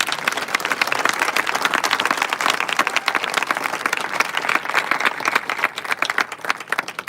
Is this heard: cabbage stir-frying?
no